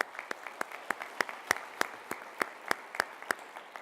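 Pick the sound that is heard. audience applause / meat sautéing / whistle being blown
audience applause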